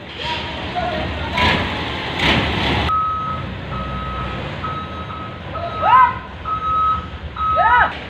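A dump truck delivering stones reverses with a steady repeating backup beeper, loud and close, with engine rumble beneath and a voice speaking over it.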